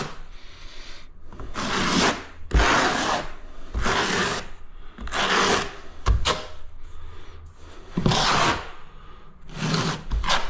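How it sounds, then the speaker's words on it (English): A 6 mm notched trowel spreads mastic tile adhesive across a kitchen backsplash wall in repeated scraping strokes, each lasting a second or two, loud and close with brief pauses between passes. "I'm using a 6mm trowel"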